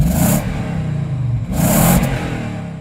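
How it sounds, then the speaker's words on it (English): Toyota Land Cruiser engine with an ignition fault and warning light on, revving loudly and unevenly in two close surges with a rough, misfiring idle between them. "Sounds a bit misfiery."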